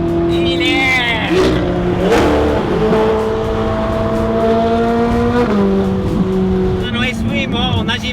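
Loud Ferrari engine with an aftermarket exhaust roaring at a car meeting, rising and falling revs, a deep raspy exhaust note shifting pitch over several seconds, with voices talking underneath.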